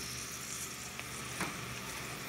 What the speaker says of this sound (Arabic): يعني البصل هيتشوح بس مش هنحمر